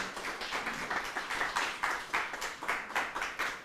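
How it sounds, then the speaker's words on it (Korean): Audience clapping at a photography class talk, a steady patter of many hands applauding for a few seconds with no voices over it. "큰 박수로 환영해 주십시오"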